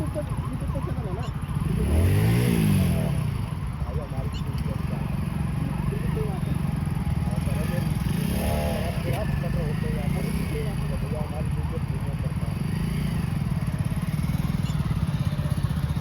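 A motorcycle rides past in a Delhi park at night, its engine rising and fading around the two-second mark and again briefly later, over steady background hum while someone talks throughout.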